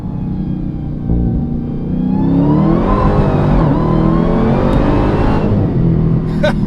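A Dodge Demon 170 with a differential reinforcement installed launches hard and accelerates away, its engine roaring loud and rising in pitch over several seconds, close by with no wheel hop.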